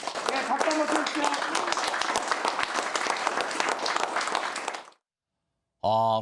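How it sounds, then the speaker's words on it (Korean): An audience of citizen representatives claps in a dense burst of applause for about five seconds, then falls silent before a short loud voice cuts in. "박수 한번 쳐주세요"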